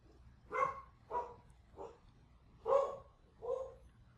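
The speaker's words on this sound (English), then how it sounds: "Doggo barking in the background." A dog barks in the background of a crime scene cleanup game set at a pizza restaurant, giving five evenly spaced, moderately loud barks with no talking.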